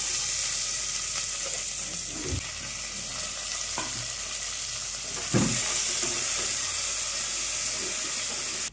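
Sliced onions and ginger-garlic paste sizzle in hot oil for a vegetable biryani, a steady close broadband hiss with a few soft scrapes of stirring and no talk.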